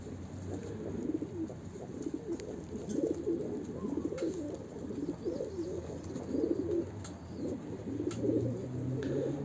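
Breeding pigeons coo outdoors in a continuous overlapping chorus of low, soft, rolling calls, moderately close, with faint ticks and rustles in the background.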